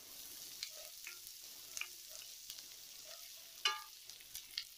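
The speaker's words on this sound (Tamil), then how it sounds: "வெங்காயம் வதங்கிடுச்சு." Onions sautéing in a pan for kara chutney give a soft, steady sizzle with a few light scrapes and taps of a spatula, faint and close, with no voices.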